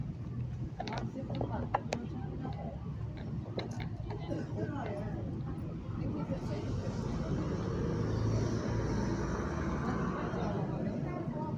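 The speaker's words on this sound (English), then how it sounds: "2 leaving to Frankston" Number 2 bus pulling out of Darlington bus station, engine rumble building and growing louder toward the end, with ticking mechanical sounds and someone talking over it early on.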